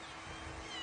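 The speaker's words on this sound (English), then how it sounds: "We got a kitten problem." A kitten meows softly in a brief, faint call, heard alone and without any talk.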